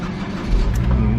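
The engine of a wrecked car catches and revs up close, a loud, rough, low rumble that rises partway through and holds steady.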